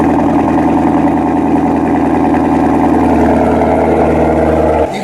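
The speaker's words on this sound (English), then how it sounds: "now you're going to hear how awesome this Stingray sounds with this beautiful" A C7 Corvette Stingray V8 with a Corsa Extreme exhaust idles loud and close, a deep steady rumble with slight rev swells that drops abruptly near the end.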